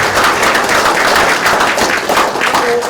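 Audience applause at a retirement ceremony for a township head, a steady, loud wash of clapping from a large crowd filling the whole stretch without pause.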